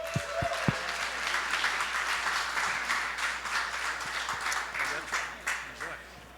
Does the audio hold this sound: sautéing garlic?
no